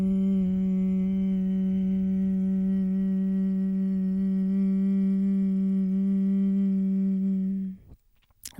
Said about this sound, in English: And hum it out for 8